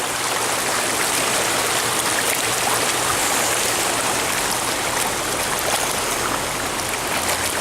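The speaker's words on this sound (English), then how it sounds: "Everything is draining to that corner there." Floodwater after a 2018 flood in Quakertown rushing and draining toward a corner of a yard near a damaged fence, a steady, dense wash of running water like a stream, close and continuous with no talk.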